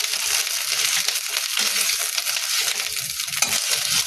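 An egg fries in hot oil with a dense, steady, fairly loud sizzle that holds evenly throughout, joined by faint scraping.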